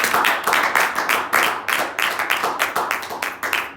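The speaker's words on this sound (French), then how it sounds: "Est-ce que tu peux bénir le Seigneur par tes acclamations?" Church congregation at a Sunday service clapping in a steady, lively rhythm, loud and close, with a few voices cheering faintly within the claps.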